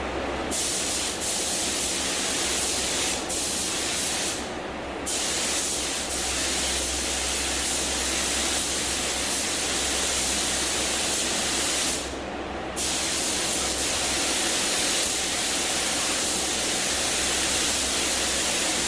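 A spray gun applies base coat paint to a 2006 Ford F150 under deer strike repair, a loud steady hissing spray interrupted by a few short pauses between passes.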